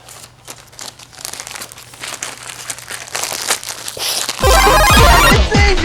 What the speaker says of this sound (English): Fluff your flock bag.